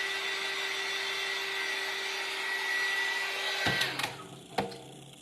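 Small craft blower or heat tool drying a painted place card piece, a steady whooshing hum with a tonal whine that runs evenly, then cuts off with a few clunks and handling knocks near the end.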